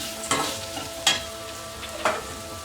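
Soaked beaten rice (aval) being stirred into a hot oil tempering for aval upma, with a steady low sizzle and three distinct scraping stirs at even intervals, close and fairly quiet.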